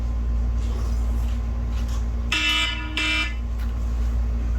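An electronic alarm sounds in two short bursts of high, buzzing tone over a steady low hum of traffic or engine noise.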